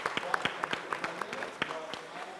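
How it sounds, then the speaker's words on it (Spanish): Sparse, scattered clapping from a small audience welcoming Guadalupe Morfín Otero at a book presentation, distinct individual claps near the microphone with a murmur of voices underneath. "La recibimos con un aplauso,"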